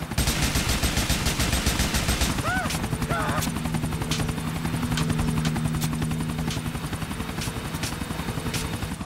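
Helicopter rotor chop from Grand Theft Auto IV pulses loud and steady throughout, with bursts of gunfire and a few brief chirps layered on top.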